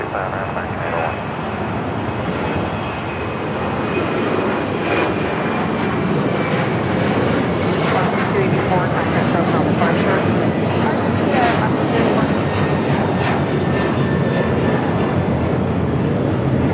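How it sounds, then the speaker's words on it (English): An Alaska Airlines Boeing 737-800 jet takes off at LAX, a loud sustained roar of jet engines with a thin whine, swelling and holding steadily throughout, with radio chatter and a voice talking underneath. "Flight taking off, Alaska Airlines Flight 284 heading to Newark, 737-800."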